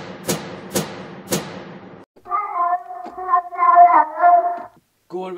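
A cat gives a long, wavering, drawn-out meow, followed by the start of another cry, after three sharp thumps at the beginning.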